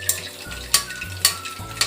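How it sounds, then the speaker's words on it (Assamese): Gulab jamun balls frying in oil over a low gas flame give a steady close sizzle, broken by several sharp bursts of louder crackle as the oil is stirred and spooned over them. "ৰঙা হোৱালৈকে ভাজিব লাগিব।"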